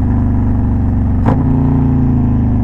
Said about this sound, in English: Now that one wanted to shift into first that time.